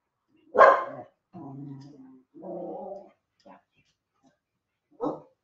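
A pet dog lets out one sharp close bark, then several lower growling, whining vocalizations, and a final short bark, in an otherwise quiet indoor room with a person's voice briefly mixed in.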